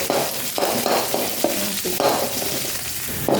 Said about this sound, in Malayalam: ഇഞ്ചിയും വെളുത്തുള്ളിയും പച്ചമുളകും ഇട്ടിട്ട് ഇത് നന്നായിട്ട് മൂത്തിട്ടുണ്ട്